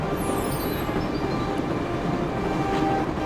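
A train rumbles along in the Broken Sword video game, with a loud, steady rolling roar and rattle of cars and faint squeals above it, continuous and close throughout.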